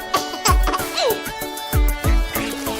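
Repeated nasal duck quacks in quick succession over a busy musical backing of a children's nursery rhyme, loud and close, recurring in bursts.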